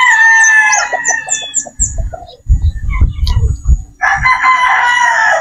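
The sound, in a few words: Boston Roundhead brood stag rooster crowing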